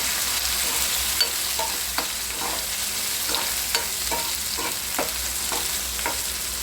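Tomatoes dropped into a pan of onion and curry leaves frying in oil, a steady loud sizzle with rhythmic spatula scrapes about every half second, close up and without talk.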